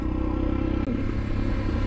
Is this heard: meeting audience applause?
no